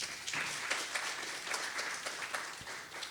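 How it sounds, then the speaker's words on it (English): An audience applauds a young poet at a poetry cafe event, a dense, steady patter of many hands clapping together, moderately loud and sustained for a few seconds before slightly easing. "Clap for that."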